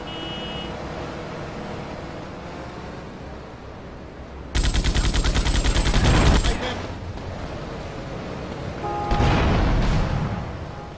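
Bursts of gunfire from a gun in Liberty City Stories, two loud rapid-fire volleys of about two seconds each over a steady low game background with faint engine rumble.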